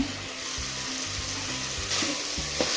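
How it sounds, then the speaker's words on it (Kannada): Ginger garlic paste fries in hot oil in a pan while cooking tomato bath, giving a continuous close sizzle with intermittent scraping stir strokes and no speech. "ಇದು ಸ್ವಲ್ಪ ಎಣ್ಣೆಲಿ ಫ್ರೈ ಆಗಲಿ."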